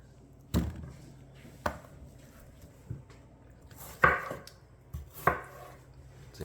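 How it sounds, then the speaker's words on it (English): A knife chops watermelon into bite-sized pieces on a board, giving about seven sharp, separate knocks at uneven intervals, close and fairly quiet, with no talking. "One of the nice perks about cutting up the watermelon is you get to eat it."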